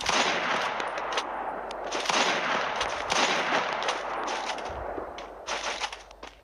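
Rapid automatic gunfire from an M8UB weapon in a shooting video game, loud, dense and nearly continuous bursts with brief gaps, close and unaccompanied by talk.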